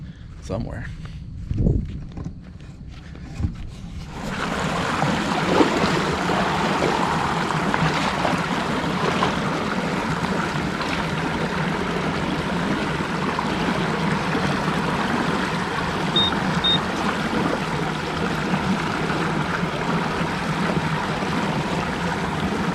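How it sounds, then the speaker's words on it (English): Steady rushing water from a waterfall on the Peace River roars close by after a few quiet seconds, a continuous broadband wash that stays loud throughout. "I don't know if you can hear me over this waterfall"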